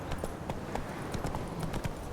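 Horse hooves gallop in The Witcher 3, a quick, regular clip-clop of hoofbeats, fairly soft but clear, lasting only a moment.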